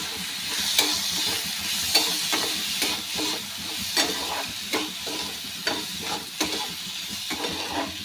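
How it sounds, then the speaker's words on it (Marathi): Rice stirred in a pan with cinnamon pieces and crushed cardamom for coconut rice with jaggery, giving a steady sizzle broken by repeated scraping stir strokes at an irregular rhythm, close and moderately loud, with no talk. "आता आपण तांदूळ टाकूया आणि परतून घेऊया"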